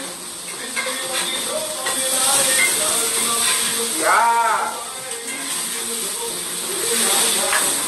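Steady hissing sizzle of catfish frying in hot oil, fairly close, with a voice speaking briefly over it.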